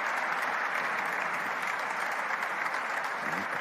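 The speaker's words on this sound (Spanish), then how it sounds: "Fuerte aplauso para el momento más emotivo de la noche." An awards-gala audience gives a loud, sustained round of applause for the MARCA Leyenda award to Ronaldinho, a thick, continuous roar of clapping with a faint hint of crowd murmur.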